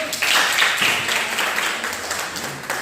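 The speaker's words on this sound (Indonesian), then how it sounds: "tepuk tangan dulu" A classroom of students clapping together in steady, dense applause for a few seconds, close and fairly loud.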